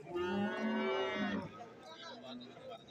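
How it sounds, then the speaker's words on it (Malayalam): A domestic buffalo at a cattle market gives one long, deep low lasting over a second, fairly near, followed by quieter background murmurs of people. "ഇത് വളർത്തുപോത്താണ്"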